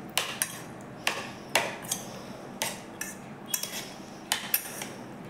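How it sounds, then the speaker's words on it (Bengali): Cubes of paneer and capsicum are mixed with yogurt and a little oil in a bowl, with a spoon clinking and tapping against the bowl in quick irregular knocks, close and crisp. "এগুলো সব ভালো করে দইয়ের সাথে মিশিয়ে নিচ্ছি।"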